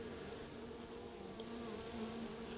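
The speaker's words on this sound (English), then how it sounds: "You can see all the bees that are tending to her" Honeybees swarm and hum close by around a small cage holding their queen. The buzzing is steady and continuous, soft overall, with no voices.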